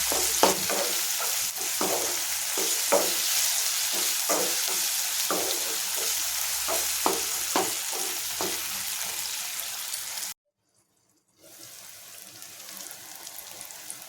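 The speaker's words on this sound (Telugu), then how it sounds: "అల్లం వెల్లుల్లి పేస్ట్ బాగా వేగింది." Ginger garlic paste frying in a pan, a steady crackling sizzle with rhythmic spatula scrapes, then a sudden second of silence before quieter sizzling resumes, no voices.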